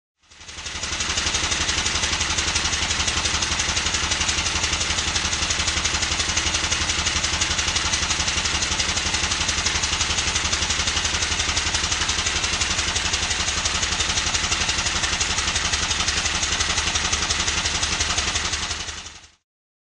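A Stuart triple expansion model steam engine running slowly on compressed air chugs with a steady, rapid mechanical beat and hiss, close and continuous from start to finish with no talking.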